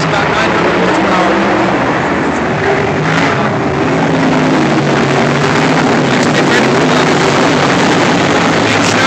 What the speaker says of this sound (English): Lincoln Motor Speedway, Thomas Motorsports sprint car, Mike Thomas driving.